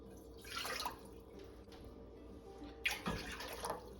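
Two cups of water are poured into a cooking pot holding onion, cloves and cayenne pepper, in two quiet splashing bursts separated by a brief lull, soft and close in an otherwise calm kitchen.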